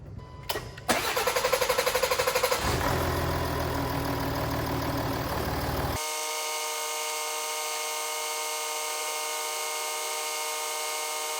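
A VW Amarok 3.0 V6 diesel cranks over several times, catches with a loud burst, then runs roughly before an abrupt cut to a steady, even idle, close and alone with no talk.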